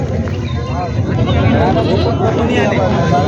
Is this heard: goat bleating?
yes